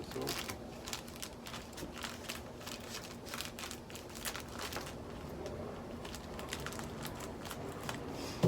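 A plaster-filled bag is cut open and handled while building an N scale model train layout, giving steady close crinkling and rustling with brief tearing bursts throughout.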